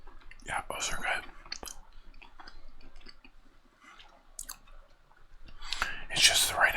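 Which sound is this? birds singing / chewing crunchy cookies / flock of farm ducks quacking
chewing crunchy cookies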